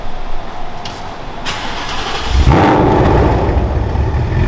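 A car engine with long tube headers, an X-pipe and active exhaust mufflers cranks and fires up, settling into a loud, rumbling idle up close after a couple of brief starter clicks.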